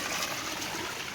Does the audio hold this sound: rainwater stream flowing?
yes